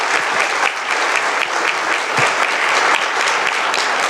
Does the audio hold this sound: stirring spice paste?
no